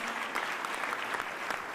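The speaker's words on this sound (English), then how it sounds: "give Renee Garcia, our city solicitor, a round of applause." An audience at a mayor's press event in Philadelphia applauds the city solicitor, a steady wash of clapping heard somewhat distant and soft throughout.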